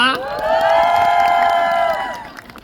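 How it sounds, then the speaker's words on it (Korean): A crowd at an outdoor obesity-awareness walking event in a riverside park in Seoul cheers loudly in one sustained rising shout of voices that fades out after about two seconds. "여러분 박수 한번 주세요"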